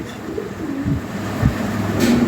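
A breeding pair of black European Lahori fancy pigeons coo softly nearby in a few low, rolling calls over quiet background noise.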